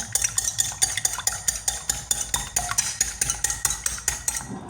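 Eggs whisked with salt in a bowl produce a quick, regular clinking rhythm of utensil against the bowl, close and distinct, about three strokes per second with no talk.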